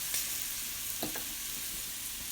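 Shrimp pan-fry in a hot pan, giving a steady, soft sizzling hiss with a few faint clinks of a utensil partway through.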